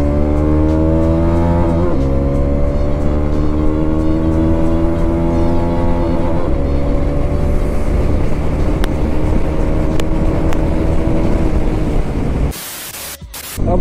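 A group of five motorcycles, including a Kawasaki H2R, ridden hard on the road, with loud, near engine drone and rising pitch as the bikes accelerate, under heavy wind rush and ending in a brief cutoff.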